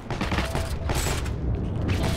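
Tank high-explosive shell fire in the World War II shooter Heroes and Generals, a dense, continuous rumble of blasts and mechanical clatter heard up close with no pauses over a couple of seconds.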